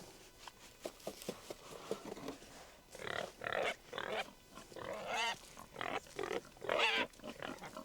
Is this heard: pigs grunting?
yes